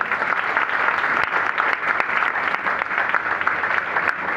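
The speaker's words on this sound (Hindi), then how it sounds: "एक बार सर के लिए जोरदार तालियां।" Steady, loud audience applause fills a hall at a company event, dense clapping sustained without a break from start to finish.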